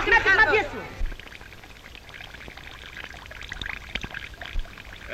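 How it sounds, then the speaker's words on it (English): Water pours and trickles out of a water clock, a splashing gush at first that drops to a faint, uneven dribble with scattered drips. "The water clock is at last empty."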